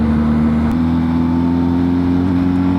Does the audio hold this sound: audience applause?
no